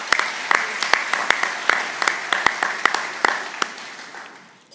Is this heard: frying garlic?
no